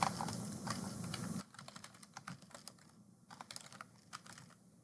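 Typing on a computer keyboard, a run of quiet, close keystroke clicks in irregular bursts as a folder name is entered, with faint room noise between the taps.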